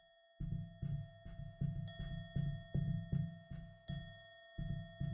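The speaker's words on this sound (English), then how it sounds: "I think I have to listen to each one and maybe gauge the chime." Repeated chime tones from a puzzle in the video game Karma: The Dark World, a steady series of evenly spaced low resonant strikes with sustained bright ringing overtones, two higher chime accents standing out, alone with no talking.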